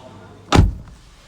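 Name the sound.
closing the car door of a 2021 Nissan Almera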